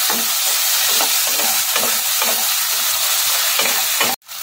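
Egg chilli sauce with powdered sugar being mixed in a frying pan: steady loud sizzling with rhythmic scraping strokes of a spatula, close by, cutting off abruptly near the end, no voices.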